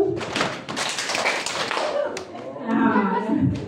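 Clapping a rhythmic pattern in a school group session, a cluster of quick claps and taps up front, then people talking over the tail end.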